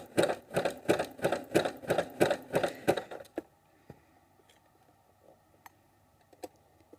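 A sewing machine stitches elastic onto fabric in a fast, even run of mechanical clatter for about three seconds, then stops, leaving faint clicks and handling noises.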